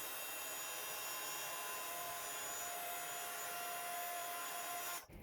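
A heat tool blows steadily to melt clear sparkle embossing powder for a Christmas card, a constant loud whooshing hum with a faint whine that runs alone and cuts off abruptly near the end.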